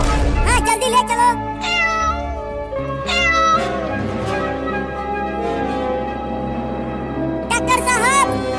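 An injured kitten, hurt by a car on a road, gives several clear, high, wavering meows in bursts. Some are close and loud, with quieter tonal sounds and voices between them.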